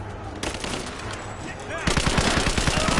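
Video game gunfire erupts in rapid bursts, automatic weapon fire rattling loudly over a busy background, growing denser and more continuous in the second half.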